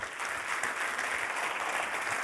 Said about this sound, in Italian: vi chiedo un applauso per tutte le maglie IATV